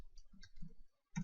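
Faint clicks from a computer keyboard while code is typed: a handful of light, irregular keystrokes, then a short gap and one sharper tap.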